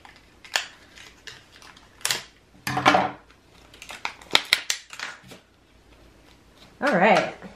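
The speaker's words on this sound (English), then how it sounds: "this I could probably just cut out with scissors" Several crisp snipping sounds of scissors cutting through material, close by, scattered among light handling noises and a short voice.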